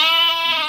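A single sheep or lamb bleats loudly and close up in a village flock, one sustained wavering cry with no talk over it.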